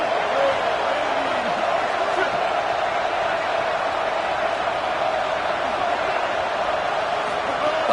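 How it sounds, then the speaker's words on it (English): Stadium crowd at a football game roaring steadily as it gets loud for the defense on third down, a dense unbroken wall of noise heard at a distance under a commentator's speech. "this crowd coming to life here trying to help the defense get a stop"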